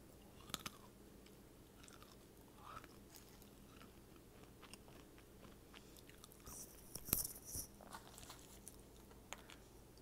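Nuts being chewed up close in an ASMR eating session, with soft irregular crunches and bites scattered through a quiet background and a louder burst of chewing near the end.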